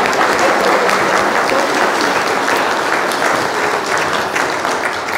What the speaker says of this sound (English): Can we give a round of applause to this?